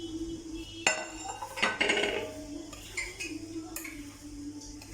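Spring onion, onion and dhania mixed in a bowl for vedda batter, with a series of sharp utensil clinks and scrapes against the bowl, irregular and close, over a faint steady hum.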